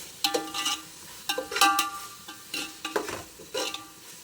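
A spoon stirs mutton biryani masala in a pot in repeated scraping bursts, each followed by a short pause, with a light sizzle underneath and no voices.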